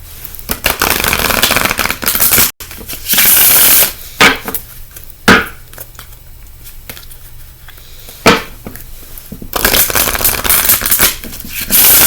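Oracle cards being shuffled by hand, with bursts of riffling and brisk card flutter broken by short sharp taps and quieter gaps, close and fairly loud.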